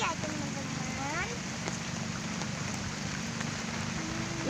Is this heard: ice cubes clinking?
no